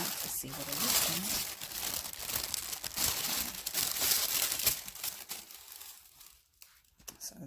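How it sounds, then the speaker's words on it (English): A new shoe is unwrapped from crinkly packing paper, with steady close rustling and crumpling that fades near the end, under occasional talk. "I'm trying to unwrap to see what it looks like."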